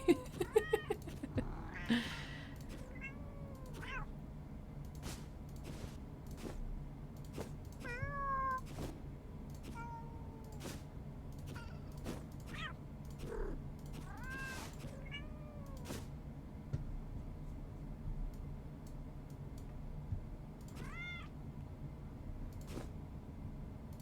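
Repeated short cat meows from the video game Finding Cats, some rising and some falling in pitch, scattered across a quiet stretch with soft clicks between them and no talking.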